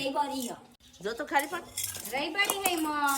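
Metal spoons clink together in a home kitchen, a dozen or so being counted out, giving light scattered chinks beneath continuous conversation between several voices.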